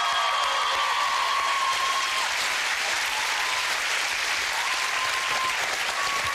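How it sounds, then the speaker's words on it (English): Studio audience on a family game show applauds steadily and loudly throughout, a dense continuous clapping with no speech over it. "Give them a big round of applause, everyone."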